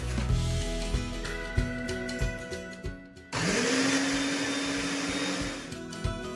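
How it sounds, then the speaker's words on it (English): A blender motor whirs up loudly and runs steadily after a few seconds of clattering and knocking, a continuous high-pitched grinding drone while blending egusi seeds and onion. "Attach it to my blender machine and then blend it up."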